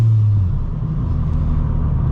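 Deep, steady engine rumble from a Stage 1 Ford Fiesta ST under throttle, heard loud and close from inside the car for a couple of seconds, with a low drone that briefly swells at the start.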